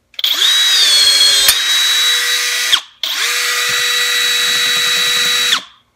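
A cordless power riveter from Enegitech sets rivets in two long continuous motor whirs, each about two and a half seconds with a steady high whine, stopping abruptly between runs; close and loud, with no talking.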